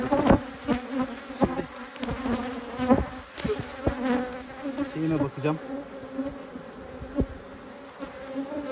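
Dense, steady buzzing of many Carniolan honey bees close by at an open hive, with scattered clicks and handling noises and a brief spoken remark over it.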